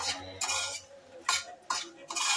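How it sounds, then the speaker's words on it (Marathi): Masala paste with black pepper, cloves and cinnamon for misal roasting in a pan, with several sharp metal scrapes and clinks of a spoon against the pan over a faint sizzle, close by, no speech. "हे सगळं परत ह्याच्यात घालून 1 मिनिट फक्त ह्याच्यावर भाजून घ्यायचं आहे।"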